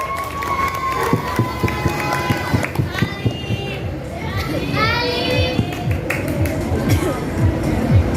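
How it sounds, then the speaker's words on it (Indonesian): A school audience of students at a student council candidate debate cheers and shouts, with lively youthful crowd noise and voices throughout. "Beri aplaus yang meriah"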